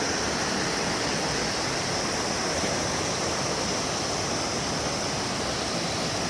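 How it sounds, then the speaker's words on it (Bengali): A waterfall near Nagarkot, Nepal roars in a dense, constant wash of falling water, loud and unchanging throughout. "অলরেডি আমরা অনেকটা কাছে চলে আসছি ঝর্ণার।"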